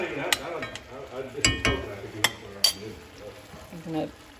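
Chicken stirred in a cooking pot for a Haitian Cajun fusion dish, soft wet sloshing with sharp clinks of the spoon against the pot, a few louder scrapes punctuating quiet simmering.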